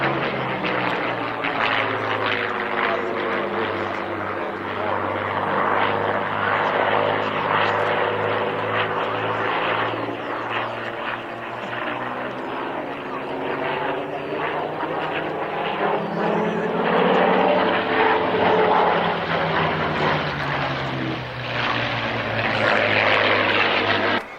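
An Allison-engined propeller aircraft drones loudly and steadily overhead at the 1998 Duxford Flying Legends airshow, its pitch rising and falling slightly as it passes.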